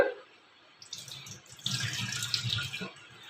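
A kitchen tap runs over cut eggplants being washed in a sink, a steady close splashing stream of water that swells louder partway through, with no talking.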